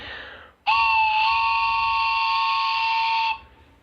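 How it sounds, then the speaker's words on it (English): A single loud, sustained train whistle blows for about three seconds, a rich multi-tone chord that starts abruptly and cuts off cleanly. "We'll do the train whistle"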